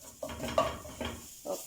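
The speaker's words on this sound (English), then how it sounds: "So just stir it this way." A rice dish seasoned with black pepper is stirred in a pot, giving four close, rhythmic scraping strokes of a spoon against the pot with short pauses between them.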